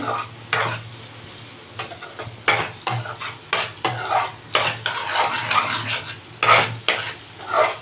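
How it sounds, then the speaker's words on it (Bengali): A spice paste for fish curry, made without garlic, sizzles as it fries in a pan. A utensil scrapes and stirs it in repeated close strokes over a steady background of frying. "দেখতেই পাচ্ছ আমার এখানে মশলা কষানো চলছে"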